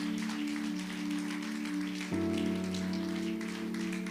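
Church congregation claps praise to God during a service, a soft, hissing wash of applause running beneath sustained keyboard chords that change pitch partway through.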